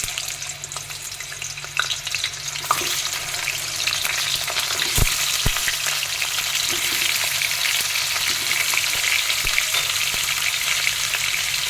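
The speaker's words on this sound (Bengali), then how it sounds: "এবার আলুগুলো ভেজে নেব" Potato pieces frying in oil in a kadai (wok) for a magur fish rosha, a steady close sizzle with occasional stirring scrapes throughout.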